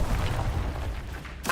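A Bombarda blasting spell detonates in Hogwarts Legacy, a deep booming explosion that rumbles on for over a second, followed by a brief sharp burst at the end.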